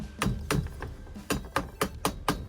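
A rubber mallet taps a SharkBite push-fit plumbing fitting about seven times in quick, uneven succession, each knock dull and close by, with short pauses between.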